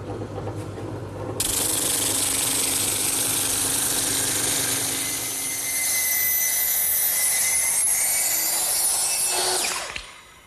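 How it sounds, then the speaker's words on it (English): A drum sander mounted in a drill press spins up and whines steadily while sanding curved wooden edges, with a continuous high rushing grind that swells slightly mid-way before the motor winds down. "I'm simply going to use my drum sander,"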